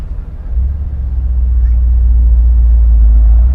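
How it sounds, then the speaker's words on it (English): A 2022 Mercedes SL 63 AMG is driving, its deep, rumbling engine note building to a loud, steady low drone. A voice is faintly present beneath it. "the sound of the new SL63 is that it constantly feels like there's a motorcycle and Harley Davidson driving behind you"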